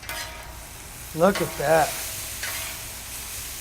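Peppered shrimp with chili being stirred on a disc cooker, a steady sizzle and scraping stir running throughout while a voice briefly speaks over it.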